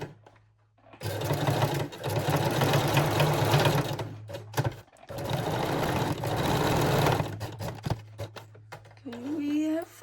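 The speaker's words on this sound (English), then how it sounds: "we will sew it together with a straight stitch" A sewing machine runs a straight stitch along a bralette strap in two long bursts of fast, even whirring, with a short pause in between. Mid-volume and close, it carries speech underneath and a voice at the end.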